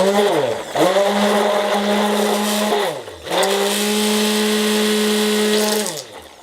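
A stick blender whirs in two long bursts through cold process soap batter, its motor spinning up and winding down between runs, loud and close with no talk over it.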